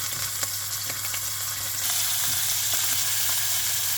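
Roasted veal sizzles steadily in a hot pan as the fat spits. The dense frying hiss stays close and loud throughout and grows slightly brighter partway through, with no talking.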